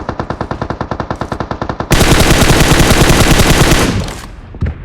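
Automatic weapon fire in the PUBG Mobile battle royale on the Erangel map: a rapid burst of evenly spaced shots, then a louder, denser stretch of sustained fire that fades out, close and alone.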